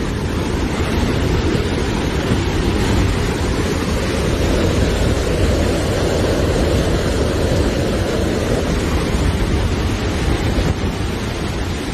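Masses of water pour over the spillway of the full Vaal Dam in South Africa, producing a loud, unbroken roar that stays steady throughout, with no voices.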